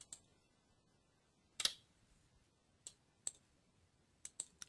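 Sharp mouse clicks on a computer during software setup, one prominent click followed by several scattered single and paired clicks, close and alone in a quiet room.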